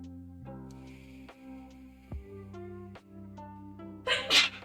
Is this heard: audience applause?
no